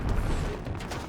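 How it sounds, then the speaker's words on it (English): A grenade goes off in a military shooter game, heard as a broad, dense rumbling blast that fills the short moment at steady loudness. "See what this nade will do. Grenade out."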